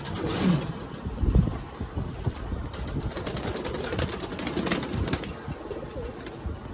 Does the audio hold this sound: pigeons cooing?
yes